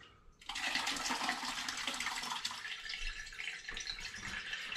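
A large pour of homemade hops, lime and ginger cider rushes into a container, starting abruptly after a brief quiet moment and continuing as a loud, steady splashing gush.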